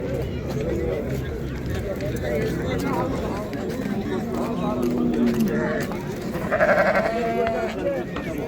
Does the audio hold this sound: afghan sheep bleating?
yes